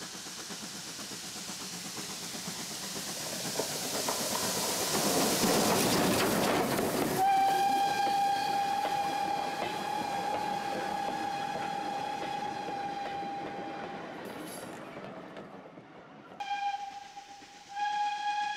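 GWR steam tank locomotive 5643 labours steadily up Berwyn Bank with a heavy rhythmic exhaust, then a long sustained whistle blows twice, loud and close, with van wagons rumbling along behind.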